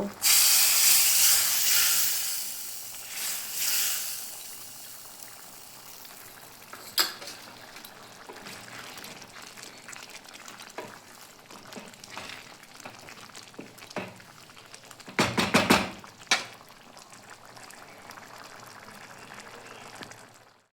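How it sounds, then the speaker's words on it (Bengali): Spiced tempering with Kashmiri chilli powder is poured into chickpea dal, giving a loud burst of sizzling steam at first, then a softer hiss with scattered clinks and a second sharp sizzle flare later, no voices. "তরকাটাকে ভালো করে চামচের সাহায্যে মিশিয়ে নিয়ে ডালের মধ্যে দিয়ে দেব"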